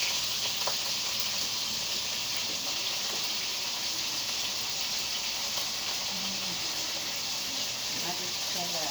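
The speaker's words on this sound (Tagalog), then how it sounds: "Lagyan natin ng toyo." Soy sauce goes into adobo cooking in a pan, producing a steady, even sizzling hiss that runs throughout, with a faint voice in the background.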